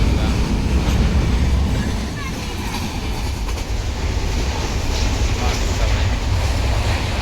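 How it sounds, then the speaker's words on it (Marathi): A Konkan Railway train crossing a river bridge in the rainy season gives a steady, loud, broadband rumble that holds evenly throughout with no clear breaks. "याच्यावरनं आपली कोकण रेल्वे चालली आहे"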